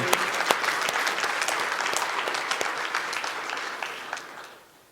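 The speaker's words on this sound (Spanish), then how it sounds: "Dale palmas a Él." Sustained applause from a church congregation during a sermon, dense steady clapping filling the whole stretch and slowly fading toward the end, with no talk over it.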